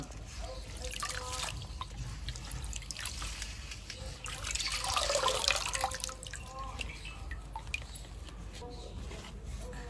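Water drips and trickles off freshly washed betel leaves in a kitchen, small wet splashes and dribbles repeating through the stretch and swelling briefly midway, close and fairly quiet.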